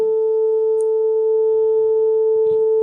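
A steady, loud 440 Hz pure tone plays from a phone speaker beside tuning forks in a resonance demonstration, holding unbroken and even for the whole stretch with no talking.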